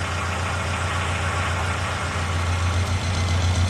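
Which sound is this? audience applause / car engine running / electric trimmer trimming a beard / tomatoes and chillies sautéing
car engine running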